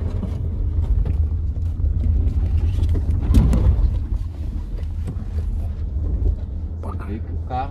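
Dodge Ram 2500 pickup crawling over a slippery dirt off-road course, a steady low engine rumble with a brief louder surge midway, while someone talks over it.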